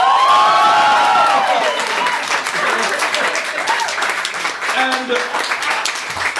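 An audience applauds after a card magic trick: loud, dense clapping close by that carries through, with a brief spoken word and a voice cutting in over it.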